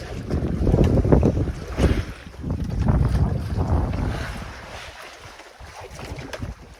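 Choppy Pacific waves slosh and slap around a small fishing boat hunting tuna, with heavy wind buffeting the microphone in irregular surges, close and loud.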